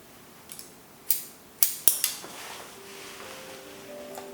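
Scissors snipping hair during a men's leaf cut, several sharp metallic snips in a loose irregular run, close and crisp, followed by a quieter stretch with faint handling sounds and no talking.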